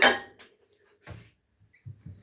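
A metal lid is set onto a cooking pot of rice, with a bright clattering clink at the start and a few softer knocks and taps afterward in a quiet kitchen.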